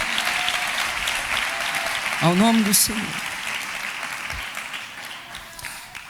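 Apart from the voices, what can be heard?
congregation applauding in church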